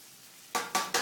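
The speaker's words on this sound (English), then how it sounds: "I'm stirring up my pasta." Three quick scraping strokes sound as tagliatelle pasta is stirred in a pan, each a short close rasp following a brief quiet start.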